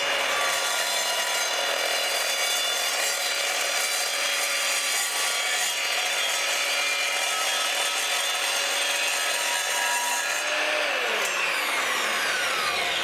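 Evolution R255 sliding miter saw cutting a 45-degree angle through 095 square steel tubing, a loud, continuous, close metallic screech with ringing tones that drops in pitch as the blade spins down near the end.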